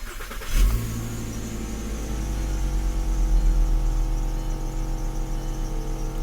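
VW Jetta engine starting up and settling into a steady idle after a no-weld flex pipe replacement, heard close and alone as a continuous low hum with a faint rhythmic exhaust pulse.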